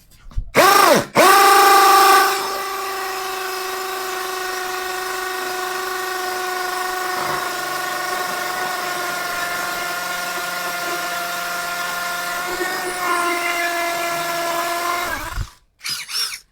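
A POLO impact drill whines steadily at high speed drilling red brick block for many seconds, with a few short bursts at the start and a brief stop near the end.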